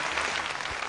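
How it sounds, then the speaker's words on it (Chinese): A brief second of steady applause from a studio audience at a Beijing television dating show, dense and even clapping. "掌声鼓励一下"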